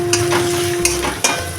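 Spices sizzle in hot oil in a pan as tomato goes in, with steady frying hiss and a few sharp stirring or scraping knocks, close and moderately loud.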